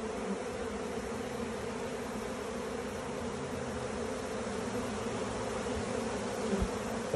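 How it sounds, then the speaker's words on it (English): Honeybees buzz around the trough of a banana tree leaf where they are being fed, a dense, continuous drone of many wings held close and steady throughout, with no voices. "Perfect place to feed bees safely."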